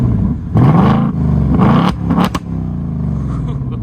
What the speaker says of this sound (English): Remote rev is going to allow you to rev up your car at Cars and Coffee or just even in a parking lot